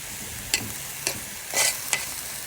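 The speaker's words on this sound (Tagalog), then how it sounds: "Halo-haloin lang po natin siya guys." Boiled bamboo shoots being stirred in a pan over a soft background sizzle, with four sharp scraping strokes spaced about half a second apart, the third longer and brighter.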